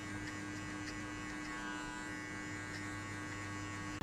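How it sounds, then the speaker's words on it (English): An electric hair clipper trimming a burst fade haircut, a steady close buzzing drone with a constant electrical hum, running continuously without talk. "I'll flick the clipper that way just to match between my fade and the top"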